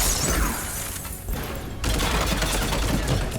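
Phaeston assault rifle fire in the Mass Effect 3 video game, dense rapid bursts of loud gunfire that dip briefly and then resume in a continuous, crackling stream.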